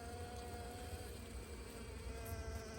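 Honey bees crowd a hive around a newly introduced queen, making a steady, dense droning hum that holds at an even level throughout with no break.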